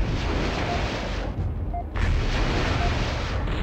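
Mech weapons in the MechCommander Gold video game fire at a dish target, a dense continuous roar of blasts and rumbling explosions that briefly dips before surging again.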